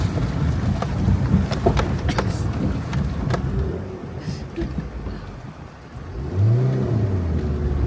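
A car engine strains and revs on a rough mountain road between Manali and Kaza, rattling and jolting over stones, loud and close, with the revs dipping and then rising again as the car gets stuck.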